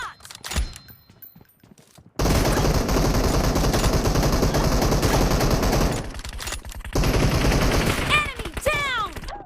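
Sniper rifle fire in a PUBG Mobile team deathmatch, a long dense stretch of loud rapid gunfire and game effects, pausing briefly before more shots and chiming sounds.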